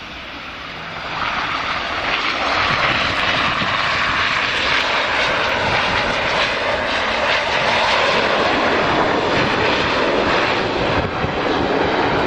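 Steady loud roar of an Aer Lingus Regional ATR 72-600 turboprop's engines and propellers at Edinburgh Airport runway 24, sustained throughout with a broad rushing wind-like noise.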